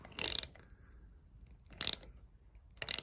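A socket ratchet works the seized front caliper piston on a Mazda RX-7 FC, giving three short bursts of close, crisp ratcheting clicks separated by near silence.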